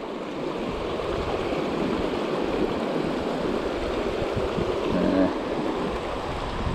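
Rushing water from a small waterfall and rapids on the Colorado River pours in a loud, continuous roar, close by with no breaks.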